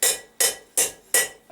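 A blacksmith hammers the corners off a steel bar at low heat while forging a diamond-point twisted fire poker, ringing out four loud, evenly spaced blows with a fifth just starting, close and alone.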